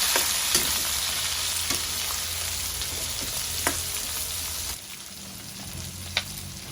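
Chunks of squash sautéing in a pan with garlic and onion after browned pork is set aside: a dense, close sizzle with light spatula clicks, easing to a quieter fry near the end.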